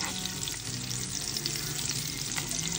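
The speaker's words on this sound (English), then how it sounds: "let's flip our kingfish" Rava-coated kingfish with masala frying in a pan, a dense, even sizzle that crackles steadily up close with no voices.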